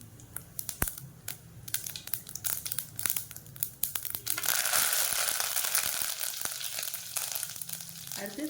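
Mustard seeds and curry leaves sizzle in hot oil in a pan, starting with crackling pops and crinkling, then swelling into a steady, close frying hiss from about halfway through.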